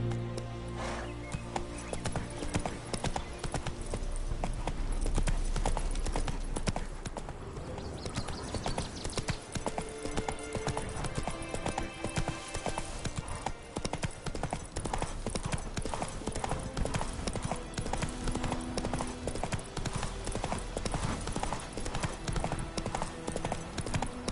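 A horse gallops in The Witcher 3, with steady rapid hoofbeats running throughout, close and prominent over a background music bed.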